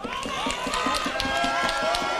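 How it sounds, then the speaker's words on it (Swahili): A crowd at a Nairobi political rally for Azimio leaders applauds, a dense, steady roar of clapping and cheering that continues throughout at moderate loudness. "tuwapigie makofi"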